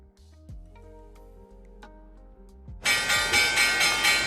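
An electronic opening bell for the stock market rings out loud and sustained after a few seconds of quiet, faint ticking, continuing steadily to the end with no talk over it.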